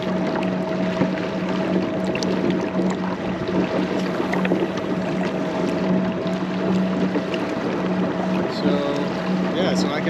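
A dual-thruster kayak motor runs on open water with a steady low electric hum and a faint whine over water wash, continuous throughout with a voice faintly in the background.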